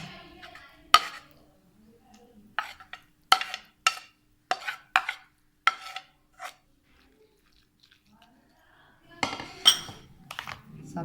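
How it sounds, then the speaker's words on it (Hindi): Boiled, cooled pumpkin going into a bowl of raita, heard as a series of sharp spoon-and-bowl clinks and taps in irregular bursts, separated by near-silent pauses, close and fairly quiet. "अब मैं इसमें कद्दू ऐड कर लेती हूँ जो मैंने बॉईल करके ठंडा करके रखा था"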